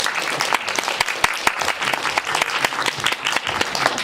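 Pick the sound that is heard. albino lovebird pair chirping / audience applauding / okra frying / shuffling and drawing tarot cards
audience applauding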